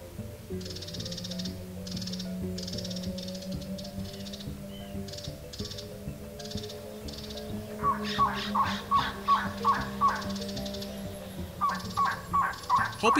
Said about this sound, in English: Hoping to attract a mate, this Trogon continues to call high up in the sky islands of Arizona.